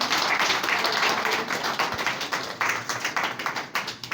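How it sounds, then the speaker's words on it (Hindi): A crowd claps steadily and loudly while a guest is garlanded at a Christmas cake-cutting program in Roshan Bheala, the applause pulsing in uneven waves without a break. "जोर से ताली बजाते हैं जब तक"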